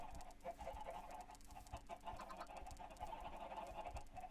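A flock of chickens in the game Minecraft clucking almost continuously, overlapping calls repeating at a brisk, uneven rhythm, close and moderately loud.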